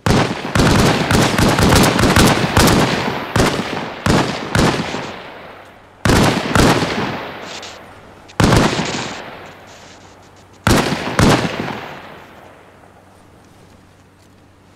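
Rifle gunshots fired from a crouching position in the Arma Reforger video game, loud close cracks in quick clusters and then several single shots each followed by a long echoing tail, no talking.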